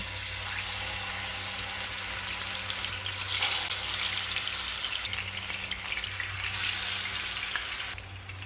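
Marinated fish frying in a little oil for a spicy fish fry, a steady close, loud sizzle and crackle that swells slightly midway and continues throughout.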